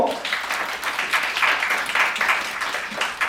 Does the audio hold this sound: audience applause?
yes